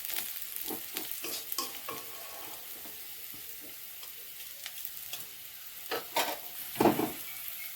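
Dal fried with a tempering in a pan: quiet, steady sizzling broken by repeated scraping stirs of a spoon, getting louder and busier toward the end, with nobody talking.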